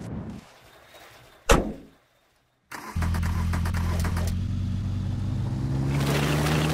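A car in The Long Drive: a faint idle and a sharp thump like a door, a moment of silence, then the engine catches and settles into a steady loud running drone that rises slightly as the car pulls away.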